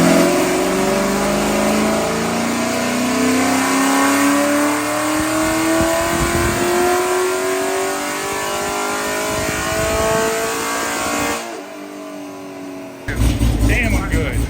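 Camaro V8 engine revving hard on a dynamometer, a loud close roar rising steadily in pitch for over ten seconds before cutting off, followed by a brief burst of noise at the end.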